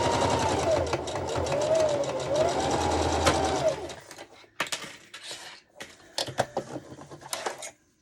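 Sewing machine stitching an ID holder, a steady fast mechanical whir running for about four seconds, then stopping, followed by scattered clicks and handling noises from fabric and parts.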